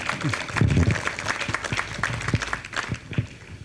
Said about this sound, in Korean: 그리고 우리 한번 고맙다고 박수 한번 하자.